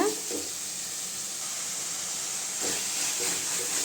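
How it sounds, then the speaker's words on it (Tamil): Tomatoes cooking down with salt in a pan for an egg gravy, a steady soft sizzling hiss running throughout with faint scraping touches near the start and again toward the end. "கொஞ்சம் உப்பு சேர்த்துக்கலாங்க தக்காளி நல்லா வதங்கட்டுங்க"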